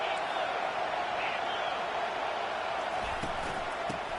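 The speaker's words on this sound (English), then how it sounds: "This crowd trying to make life miserable for this offense." A college football stadium crowd at a Clemson versus Oregon game roars as a steady, dense wall of noise throughout, loud and unbroken, with faint thumps near the end.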